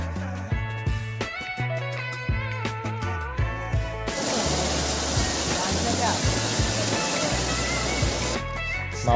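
Waterfall at Maredumilli: after a few seconds of tonal music, a dense, steady roar of falling water takes over and fills the scene, loud and continuous until the final moment.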